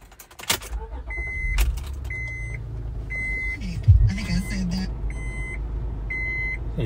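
A 2005 Honda Pilot starts up nearby: a short cranking burst, then a steady idle with repeated electronic chimes beeping at even intervals inside the cabin.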